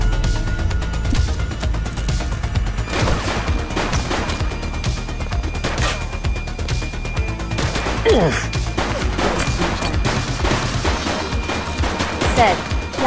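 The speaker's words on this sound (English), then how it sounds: "Shots fired!" Rapid bursts of gunfire from a police shootout in the video game The Precinct, sharp repeated shots and volleys cracking over a steady, loud game backdrop, with voices calling out in between.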